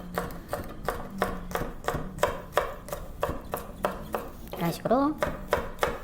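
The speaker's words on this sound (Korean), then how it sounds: "얇게 썬다고 생각하시고." A knife thinly slices vegetables such as onion and carrot on a cutting board in quick, evenly spaced chops, close and crisp, with a brief spoken phrase near the end.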